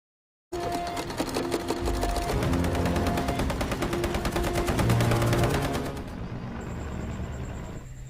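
In a World War I film scene, a sewing machine stitches dead soldiers' washed clothes for new recruits, starting abruptly with a loud, rapid, continuous mechanical rattle that shifts to a lighter, faster whirr near the end.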